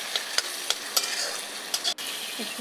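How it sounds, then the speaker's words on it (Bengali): Ginger-cumin paste and spices stir-fried for a rohu fish bhuna, with a steady close sizzle broken by several sharp scrapes of a spatula against the pan and a brief pause near the end. "ভালো করে মশলাটাকে কষিয়ে"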